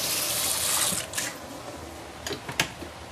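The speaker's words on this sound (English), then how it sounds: "We can actually get ready some hot water." Hot water pours steadily into a pot for a braised potato stew, a bright hissing splash that fades after a second, followed by a few light clinks and knocks of kitchen utensils.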